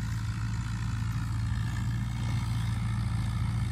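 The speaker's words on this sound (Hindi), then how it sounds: "ट्रैक्टर ज़रा ओवरलोड चल रहा है, क्योंकि ये पराली में नमी आ गई है।" A tractor engine runs steadily under heavy load while pulling through damp, rain-soaked rice straw in a field. It makes a loud, continuous low drone with a constant hum and no clear changes in pitch.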